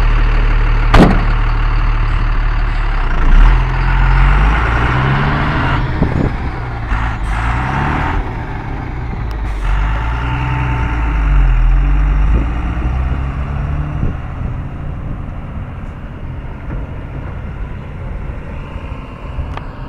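A HYVA 2518 tipper truck being driven, its heavy diesel engine rumbling loudly and close throughout, rising and falling with gear changes, with sharp hissing bursts like air brakes.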